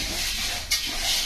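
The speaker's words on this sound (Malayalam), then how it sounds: "പിന്നെ നമ്മൾ നല്ല ക്രിസ്പി ആകുന്നത് വരെ വറുക്കുക" Curry leaves fry in a pan until crispy with a steady close hiss and sizzle, and a brief stir or scrape sounds partway through.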